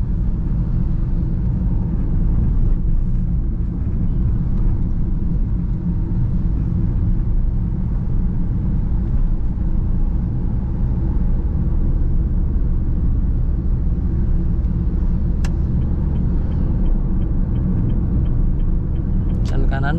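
A car engine hums in third gear while driving, a steady low rumble with road noise throughout, loud and close, joined by a couple of brief sharp clicks near the end.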